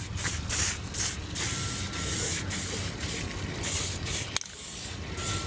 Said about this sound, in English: First coat's always light. Just want to lightly go over stuff.